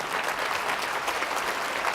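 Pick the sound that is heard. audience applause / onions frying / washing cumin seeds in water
audience applause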